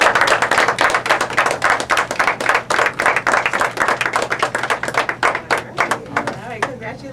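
An audience claps for a high school intern award recipient at a Christmas celebration and awards event in a law office, a fairly small crowd with distinct individual claps, loud and close, thinning toward the end.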